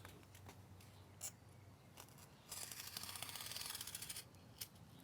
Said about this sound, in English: Now let's cut that out. I don't mean stop that, I mean let's actually cut this.